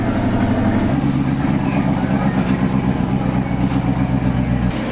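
A wrecked C8 Corvette with its engine running as it rolls out of a garage, a steady loud mid-pitched rumble that stays close and continuous throughout.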